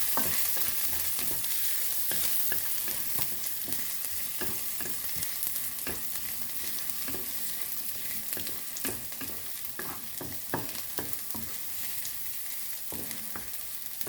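Celery, salmon and shrimp being stir-fried, a steady close sizzle with repeated sharp clicks and scrapes of a utensil stirring through the pan.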